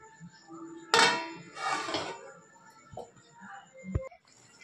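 A metal lid clanks back onto a pot of mutton curry with potatoes, a few sharp close clatters and scrapes of pot and cutlery, no talking.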